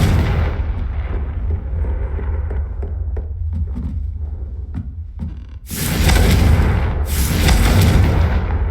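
The Confringo explosive spell in Hogwarts Legacy goes off as a loud rumbling blast, then a heavy roaring boom swells and holds after a quieter stretch of low rumble and scattered thumps.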